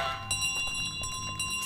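A bell carried around in Untitled Goose Game jingles with repeated bright metallic rings, irregular strikes over a steady ringing tone, moderately loud with no talking.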